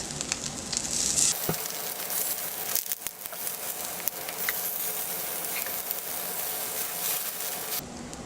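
Tofu frying in a pan, a continuous close crackling sizzle that keeps steady for several seconds, with a few sharper pops and no talking.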